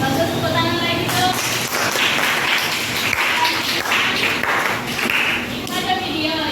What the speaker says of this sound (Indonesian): tepuk tangan lagi tuh